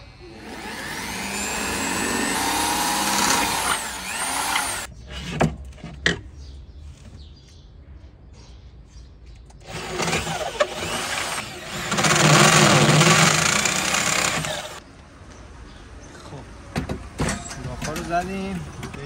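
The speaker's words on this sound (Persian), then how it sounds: "میریم حالا برای سوراخ کاری" A power drill bores holes into a vehicle floor during a DIY camper fit-out. Two long, loud, close bursts of whining drilling are separated by quieter clatter, and people talk around them.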